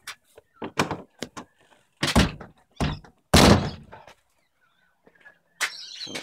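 A door swings shut with a solid thunk near the microphone amid a string of scattered knocks and bumps, with brief voices and skateboard clatter around it outdoors.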